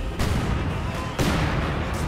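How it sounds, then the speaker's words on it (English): Mortar fire in Company of Heroes 2, a real-time strategy battle with Soviet and German forces: two loud, close booming bursts, one at the start and another about a second later, each trailing into rumbling battlefield noise. "Mortars are flying out"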